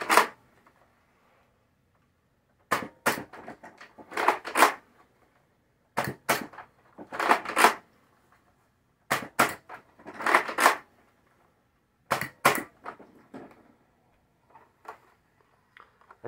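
A Nerf Flipshots Flip-32 blaster fires darts in separate bursts, each a quick cluster of sharp snapping pops and mechanical clicks, with silent pauses of a few seconds between volleys.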